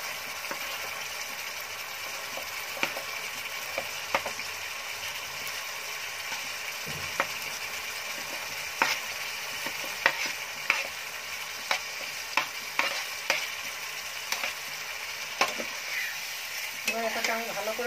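Pre-fried radish pieces are sautéed in a frying pan for lote-mulo, with a continuous sizzle under repeated sharp scrapes and knocks of a spoon, getting busier toward the end, with no voices.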